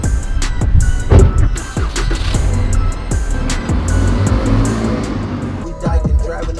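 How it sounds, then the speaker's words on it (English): A car cruising on a highway, heard from inside as a loud, steady engine and road rumble with faint voices mixed in. "driving on the highway"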